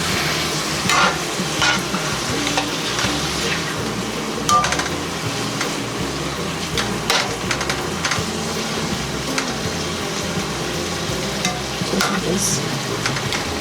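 Philly cheesesteak filling sizzles in a skillet with chili oil, a steady close frying hiss broken up by occasional stirring scrapes and knocks.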